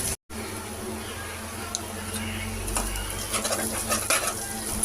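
Ginger paste goes into onions frying in oil with cumin and green chillies for a Telugu prawn curry, heard as a soft sizzle with spoon stirring and utensil clinks after a brief dropout.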